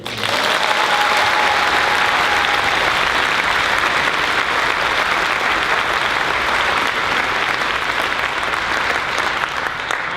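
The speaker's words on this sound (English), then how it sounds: "I don't mind if you applaud for this" Sustained, loud audience applause in a high school orchestra concert hall, an even wall of clapping lasting about ten seconds without speech.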